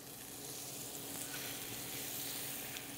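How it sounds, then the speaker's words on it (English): Pork tenderloin sizzles in hot butter in a skillet, a dense, even hiss and crackle that holds steady throughout, fairly faint and with no talk over it. "we'll get our pork tenderloin right into that butter"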